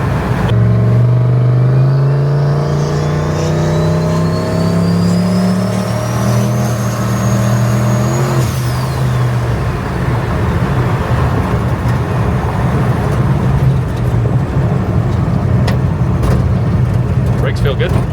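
A Ford F-100 pickup's engine drones steadily while driving, a loud close rumble that climbs in pitch under acceleration, then settles into an even cruise with road noise throughout.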